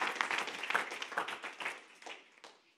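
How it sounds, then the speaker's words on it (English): A church youth service congregation breaks into applause, dense overlapping claps from a crowd that fade out toward the end. "And let's give an applause to the Lord Jesus."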